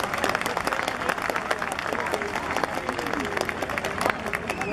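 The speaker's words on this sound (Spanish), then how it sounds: "Quiero un aplauso para ellos" A crowd claps through an award ceremony honoring masters of Ayacucho music, dense, continuous applause holding steady from start to finish.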